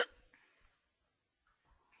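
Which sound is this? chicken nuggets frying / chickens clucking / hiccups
hiccups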